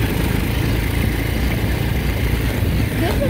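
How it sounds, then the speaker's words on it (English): A 150/125cc four-wheeler ATV engine runs with a steady, loud, rough drone, close by and without pause throughout, with no clear talk. "150-125cc, so that's a strong four-wheeler."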